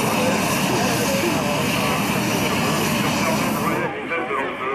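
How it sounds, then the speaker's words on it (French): Propeller light aircraft from an aero club drone loudly overhead at an air show in Brecé, Mayenne, France, a continuous throbbing engine roar that begins to fade near the end. "Des avions de l'aéroclub qui passent sur votre droite."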